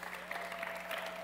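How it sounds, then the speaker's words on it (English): Audience applause for eSailing World Championship finalists at an annual conference in Sarasota: a short, steady patter of clapping at a distance, fairly quiet, with a faint tonal hum running underneath. "One final round of applause for our finalists."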